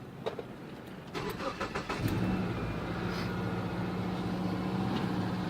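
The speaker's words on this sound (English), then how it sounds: "I'm going to go ahead and start the car." A 2003 Subaru Impreza engine cranks briefly with a few quick starter pulses, catches and settles into a steady, close idle hum.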